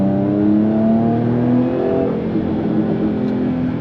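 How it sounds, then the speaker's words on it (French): A 380 hp Jaguar F-Type S in British Racing Green, set in sport mode, revs its engine loudly and continuously, with a rising and falling harmonic snarl heard up close and no voices. "une sonorité extrêmement présente, un véhicule extrêmement sportif avec des retours à l'échappement"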